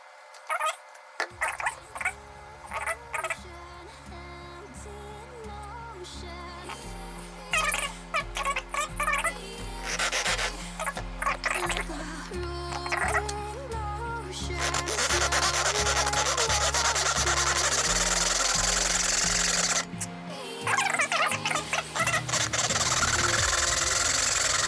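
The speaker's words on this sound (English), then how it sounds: "I started cutting this on the hacksaw and it was just taking forever" A hacksaw cuts through a metal bolt in a long run of close, rasping back-and-forth strokes, the rhythm shifting and growing steadier and denser toward the end; no talking.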